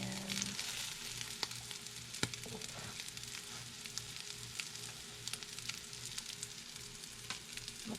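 Tuna cakes frying in a hot pan, a steady close sizzle with scattered pops and crackles of spattering oil, quiet and continuous, no voices.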